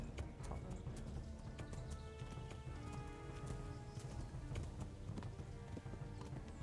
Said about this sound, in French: Il traîne déjà de la patte ce cheval.